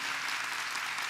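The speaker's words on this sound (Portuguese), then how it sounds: "Vamos aplaudir aqui esse coral lindo," A church congregation applauding a choir at a Christmas service, a brief, dense wash of clapping at moderate volume with no talk over it.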